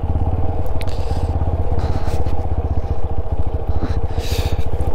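A loaded motorcycle rides off-road on a rough trail in the Ladakh region, its steady engine drone continuous and close, with rattling and scraping from the bike and terrain throughout.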